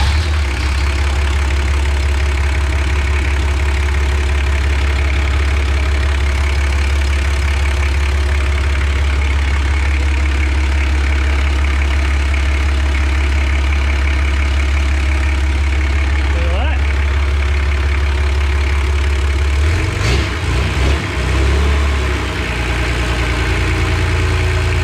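A rebuilt Toyota Landcruiser diesel engine idles steadily after an engine swap, fitted with a new CAV fuel filter, a loud close low rumble running continuously with a brief disturbance near the end.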